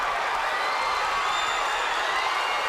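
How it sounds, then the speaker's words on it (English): A boxing crowd at a CES Boxing event roars in a steady, dense wash of cheering and applause, loud and continuous with no voices standing out above it. "listen to this crowd"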